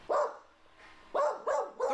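Several dogs at an overwhelmed animal shelter bark in short repeated bursts, fairly close and moderately loud, with a few brief pauses between volleys.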